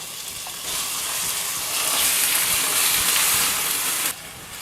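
Two large onions sauté in oil in a pan for paneer butter masala, a loud, continuous sizzle that swells as they are stirred, then drops suddenly near the end.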